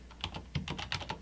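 About ten quick, crisp keystrokes on a computer keyboard, close and fairly quiet, tapped in an uneven run.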